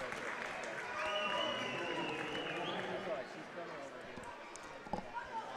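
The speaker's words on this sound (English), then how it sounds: "Gracie Johnson gets a nice ovation from the crowd" A crowd at a girls' high school basketball game gives an ovation for a player leaving the game. The applause and cheering swell, then fade under a commentator's voice, with a few scattered thuds near the end.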